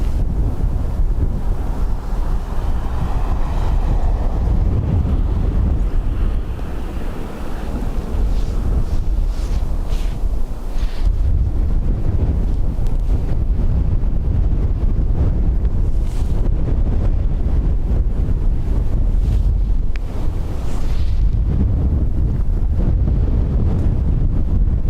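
Strong gusty wind buffets the microphone outdoors at Dublin Airport, a loud continuous roar with no pause.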